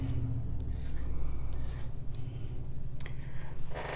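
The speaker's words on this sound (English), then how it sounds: "So first I want to sand them out" A metal bezel setting being sanded by hand with 800 grit sandpaper, a close, continuous fine rasping and rubbing in short back-and-forth strokes without speech.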